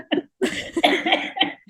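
A woman's cough bursts out mid-conversation, a few rough, throaty hacks in quick succession, close and loud, with a little laughter mixed in among the voices.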